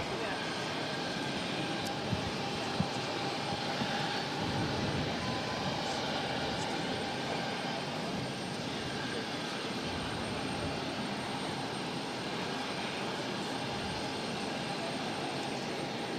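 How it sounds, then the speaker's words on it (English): A Bombardier Challenger 350 business jet, NetJets 738, takes off from Boston Logan, a steady broadband engine roar held throughout under intermittent voices. "This Bombardier Challenger 350 taking off to Teterboro"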